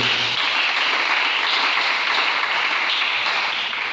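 A church congregation applauding and cheering to acclaim the Lord during a French-language sermon, a dense, steady roar of clapping that holds loud and unbroken throughout.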